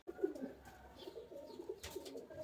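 A female pigeon of a breeder shoo breed coos softly in low, rolling phrases, repeating a few times against a quiet background.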